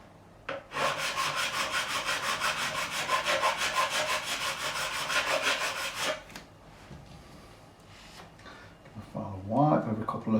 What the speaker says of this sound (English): Final wipe over a couple of frets.